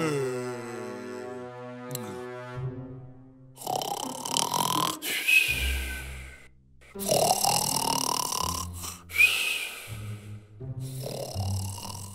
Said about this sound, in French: il ronflait si fort qu'un chasseur du coin l'entendit